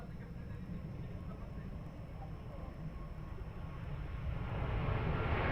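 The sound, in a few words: Airbus A330 airliner departing Lisbon Airport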